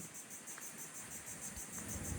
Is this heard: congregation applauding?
no